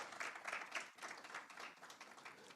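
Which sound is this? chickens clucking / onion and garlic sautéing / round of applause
round of applause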